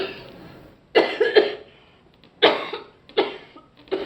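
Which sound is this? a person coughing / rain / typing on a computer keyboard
a person coughing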